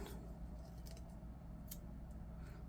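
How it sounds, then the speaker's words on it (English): Scissors snip off loose thread while journal cards are being made from old book pages and scraps, giving a few brief, faint close-up cuts over a low room hum. "Snip it off. Doesn't matter how long those little threads are."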